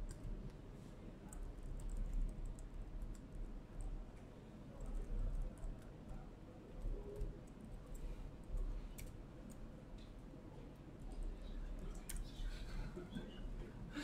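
Quiet, steady typing on a computer keyboard while writing Z80 assembly code for an Amstrad CPC, soft irregular key clicks running continuously over a low background hum.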